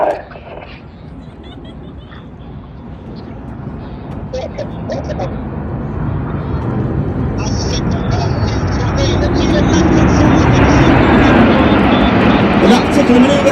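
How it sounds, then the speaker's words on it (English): Red Arrows RAF jets in a flying display at an airshow with air brakes extended, a roaring engine rush that builds steadily louder and fuller over several seconds. "In that particular manoeuvre, the aircraft are flying with the air brake out."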